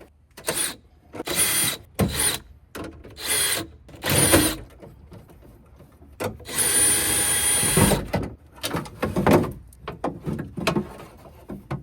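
A power drill spins out screws holding a window regulator inside the driver door of a 1998–2003 Dodge Durango, in repeated close, loud whirring bursts of varying length separated by short pauses.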